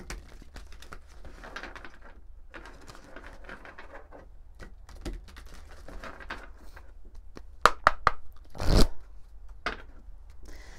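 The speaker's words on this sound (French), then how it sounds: "on va prendre quelques cartes de l'oracle de ma vie d'Amandine Bocquet" Oracle cards handled and drawn from a deck, faint close shuffling and sliding with a few sharper card snaps and a louder brush near the end, no voice over it.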